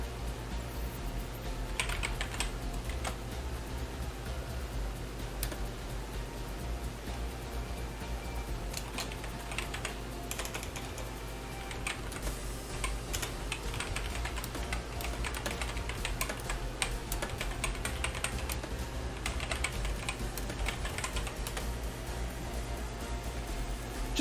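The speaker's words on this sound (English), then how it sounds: "Apologies for the keyboard noises, I'm just typing a message." Steady computer keyboard typing, close and continuous, with rapid irregular key clicks over a constant low background hum during a Microsoft Flight Simulator livestream.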